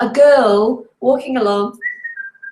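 A person whistles a brief, cheerful rising note, imitating a happy whistle right after a short stretch of speech.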